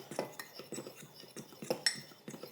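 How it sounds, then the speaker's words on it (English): A fork scrapes and clinks against a mug while mixing the dry ingredients for a mug pizza, giving quick rhythmic taps and scratches, close and fairly quiet. "Now we get a fork and just mix all those together."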